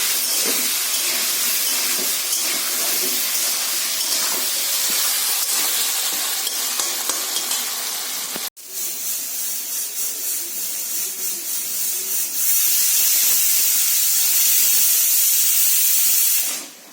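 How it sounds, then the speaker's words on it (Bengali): A pressure cooker on a gas stove, cooking fish head with jackfruit, lets off its whistle: a loud continuous rushing hiss of escaping steam, interrupted briefly midway, then a stronger, brighter jet that fades out at the end. "তো আমি কুকারের গ্যাসটা সিটি দিয়েছে, কুকারের গ্যাসটা অফ করে দিই।"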